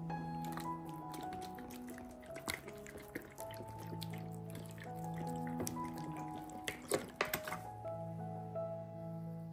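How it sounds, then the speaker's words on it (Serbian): Diluted fertilizer solution is poured onto radishes in a garden, giving scattered drips and splashes over a steady low trickle, with a tonal background throughout. "Razredila sam đubrivo sa vodom u razmeri 1:5 i zalit ću rotkvice."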